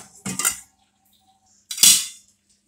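A leaky metal cooking pot being handled, two sharp metallic clanks with a brief ringing tail about a second and a half apart, close and loud.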